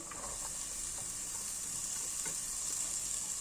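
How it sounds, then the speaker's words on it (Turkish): Diced potatoes, carrots and other vegetables for soup sizzle steadily in a hot pan, with occasional clinks and scrapes of stirring over the constant frying hiss. "Şimdi birkaç dakika sebzeleri kavuruyorum. Devamlı karıştıralım."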